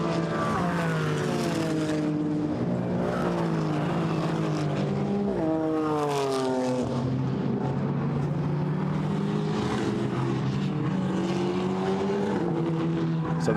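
Mercedes GT4 race cars battle closely around Paul Ricard circuit, their engines droning continuously with repeated rising and falling pitch sweeps as they pass and shift gears.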